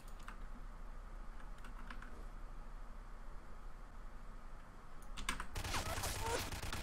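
Rapid typing on a computer keyboard clatters continuously under a noisy background during an online survival game session, growing harsher and louder near the end.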